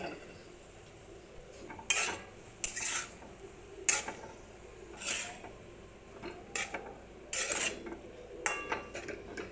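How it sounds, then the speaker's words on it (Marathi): A metal spoon stirs brinjal and drumstick pieces in a pot for sambar, making sharp intermittent clinks and scrapes against the vessel every second or so, close and quiet with no talk. "याच्यामध्ये वांगे आणि शेवगा हे घालून घ्यायचं आहे आणि त्याला पुन्हा एकदा परतून घ्यायचं आहे"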